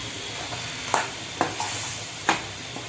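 Coriander, chili and turmeric powders sautéing with onion and tomato for a fish kuzhambu, a steady soft sizzle broken by a few sharp scraping stirs of a spoon against the pan, close and moderately quiet with no talking.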